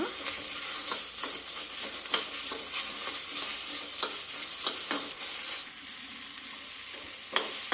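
Chopped tomato frying in a pan, a steady broadband sizzle with frequent sharp crackles and stirring scrapes throughout, close and fairly loud, with no voices.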